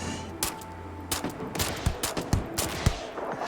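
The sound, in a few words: Magnum pistol gunfire in video game Starfield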